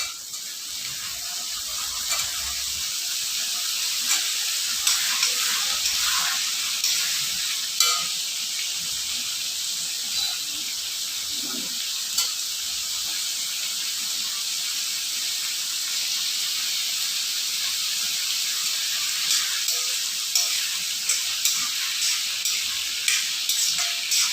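Potatoes sizzle steadily in a hot frying pan, a continuous hiss with occasional light scraping and stirring taps.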